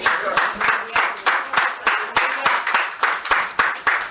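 A church congregation claps in a steady rhythmic beat, sharp regular claps repeating about twice a second, with singing or voices blending underneath.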